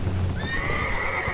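A horse in the video game Elden Ring gives a single loud, close neigh rising into a sustained whinny, with faint hoof clops underneath.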